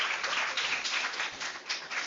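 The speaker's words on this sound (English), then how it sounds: "give yourself a lusty round of applause today for being here" A seminar workshop audience applauding, a short burst of dense, steady clapping from many hands.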